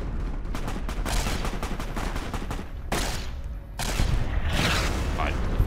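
Rapid gunfire at psycho raiders in the video game Fallout: New California, a dense run of shots and bursts that keeps going with brief gaps, loud and close, with some talk over it.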